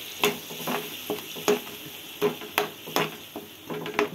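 Tomato juice from smashed tomatoes pours into a hot pan for thakkali thokku, giving a steady sizzle broken by repeated sharp scraping stirs at an uneven rhythm, close and moderately loud with no voices.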